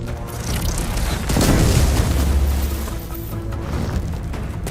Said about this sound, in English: I love this cannon!